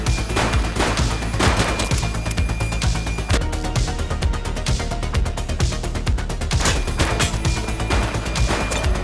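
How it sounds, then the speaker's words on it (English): Sustained, loud gunfire in The Precinct police game: dense rapid bursts and single shots crackle continuously, with occasional crashing impacts and no talking. "Shots fired!"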